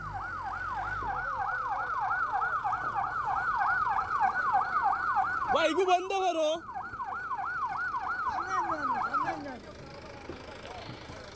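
A fire engine's loud wailing siren cycles rapidly up and down for several seconds at a village fire, briefly interrupted by a shout, then fades away.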